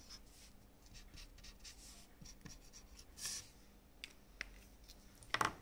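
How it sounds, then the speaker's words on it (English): Pen writing results onto a results table in a science lab, faint scratchy strokes over quiet background hiss, ending in a couple of sharper taps. "I'm going to write that down on my results table."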